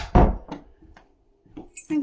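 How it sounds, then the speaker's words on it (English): A door closes with a close, solid thud, followed by a few softer knocks and rattles as it settles, with brief voice sounds near the end. "Right, close the door."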